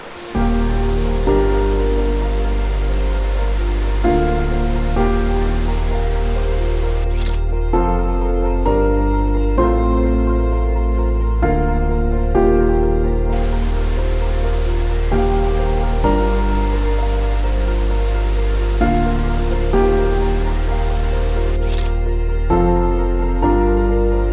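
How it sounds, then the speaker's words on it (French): A waterfall in Austria pours with a loud, unbroken roar that stays close and steady throughout, with no one talking. "là on a trouvé une cascade"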